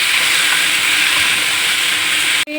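Washed ingredients hit a hot pan, setting off a loud, even hiss of sizzling steam that runs unbroken for a couple of seconds before cutting off abruptly.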